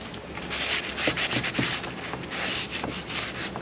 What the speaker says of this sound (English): So I'm using a degreaser to remove the machining oil.